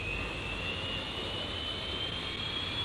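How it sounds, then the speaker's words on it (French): A Dassault Mirage III jet from 1961 climbing, its engine a steady, even roar with a thin high whine running throughout, sustained and unbroken for the whole stretch. "L'avion qui est en train de prendre de l'altitude."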